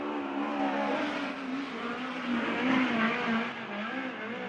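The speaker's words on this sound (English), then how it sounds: "The 81 Wiedemann still idling around the racetrack." USAC midget race car engine idling around a racetrack in Merced, a steady droning motor with a wavering pitch, close and continuous with no talk.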